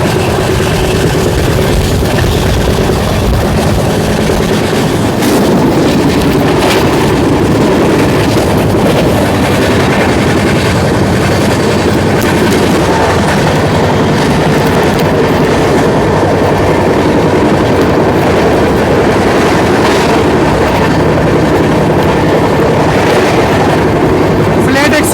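Amrit Bharat Express running non-stop between Govindpuri and New Delhi, a loud, continuous onboard roar of wheels and rails with rhythmic clatter, recorded from inside the moving train, with a voice talking over it.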